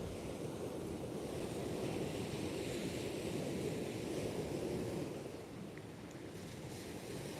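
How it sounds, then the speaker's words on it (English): Strong sea wind roars steadily into the microphone on the coast, with a rushing, surf-like rumble, easing slightly toward the end. No voices. "Be nice if this wind drops down a little bit"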